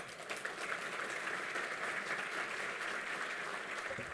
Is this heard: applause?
yes